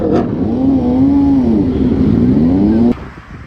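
A Ducati motorcycle revs loudly as it passes close by, its engine pitch climbing and dipping in a sustained roar before cutting off abruptly.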